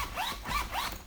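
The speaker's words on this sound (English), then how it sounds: "that's how I test zippers" The zipper on a UTG urban messenger bag is pulled back and forth in quick strokes, three short close rasping zips in a row.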